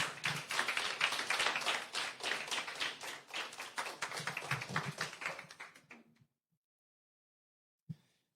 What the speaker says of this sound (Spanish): ¿Quieres darle un aplauso al Señor Jesús? Dale ese aplauso a Jesús.